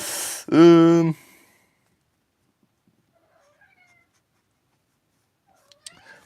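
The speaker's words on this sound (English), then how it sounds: "my cat wants to get out" A house cat gives one loud, drawn-out meow close by, asking to be let out, followed by near silence and a few faint clicks near the end.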